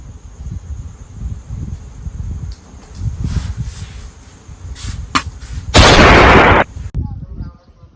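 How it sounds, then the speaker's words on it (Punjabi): Gunfire sound effect in a Punjabi village comedy skit: a dense burst of loud, cracking shots around the sixth second, amid rustling noise and scattered pops before and after. "ਗੋਲੀ ਚੱਲਣ ਦੀ ਆਵਾਜ਼ ਆਈ ਆ"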